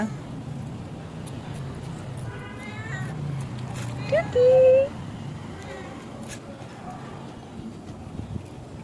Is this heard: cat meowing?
yes